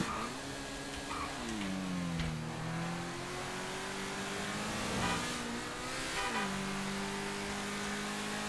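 Car engine in GTA 5 revving and accelerating through several gear shifts, each pitch climb dropping back before rising again, loud and close with no talk.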